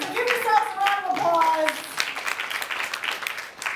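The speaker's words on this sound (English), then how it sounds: "you guys deserve your own round of applause for coming out for a grief night" A storytelling-night audience applauds, a brisk burst of clapping that starts under voices calling out and then carries on alone for a few seconds.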